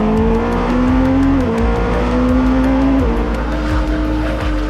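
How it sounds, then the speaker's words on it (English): Twin-turbocharged 4.6-liter LMDH race car engine at full load, a loud, continuous close roar with rising pitch sweeps and sharp drops at each gear change, no voices. "It's not a naturally aspirated engine, it's a turbocharged engine, it's a twin turbocharged concept."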